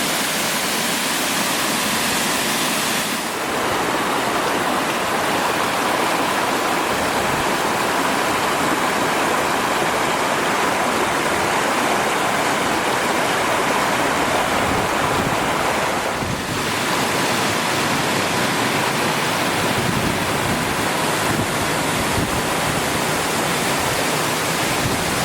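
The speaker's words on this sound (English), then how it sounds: "This is an enormous looking waterfall." Steady, loud roar of an enormous waterfall with a 5–6 metre lower section and upper drops totalling 10–15 metres, a continuous broadband rush of falling water close by, with no voices.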